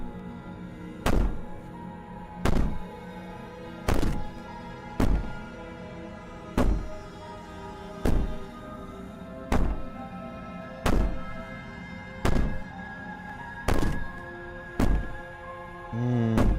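Heavy banging on a door in the game Slay the Princess: a dozen deep, evenly spaced thuds arrive about every second and a half over a steady low drone.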